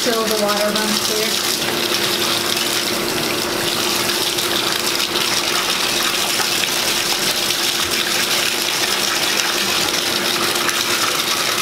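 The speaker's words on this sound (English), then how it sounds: "Wash your hair until the water runs clear." Water runs steadily and loudly from a tap while hair is rinsed clear of dye, a continuous gushing splash that lasts throughout with no pause.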